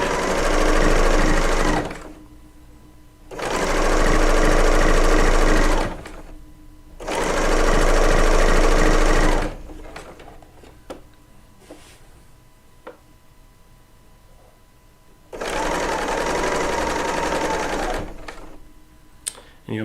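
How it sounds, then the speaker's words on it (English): A Bernina sewing machine stitches a quilt in three steady runs of two to three seconds each. After a long pause filled with faint handling clicks, a final run of about four seconds follows, loud and close. "I do something just using the sewing side of that machine"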